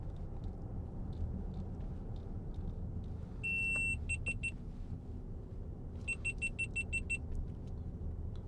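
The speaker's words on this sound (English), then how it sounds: "That's one of my cameras overheating." Overheating camera giving off electronic warning beeps inside a 2015 Range Rover SD V8 Autobiography: two short bursts of rapid high-pitched beeping over a low cabin hum, the second burst longer.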